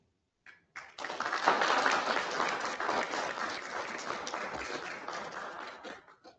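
Audience applause at a county board of commissioners retreat public meeting: a few scattered claps, then the room breaks into full, sustained clapping that swells early and slowly tapers off before ending abruptly.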